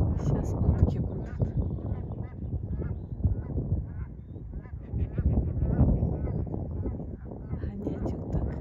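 Ducks quack and honk in an agitated, continuous jumble out in the open on a cold windy day, fairly close, with someone talking over the birds throughout.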